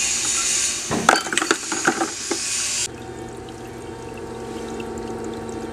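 Water flushing through plumbing lines, a rushing pour with clattering metallic knocks that cuts off abruptly midway, leaving a faint steady hiss.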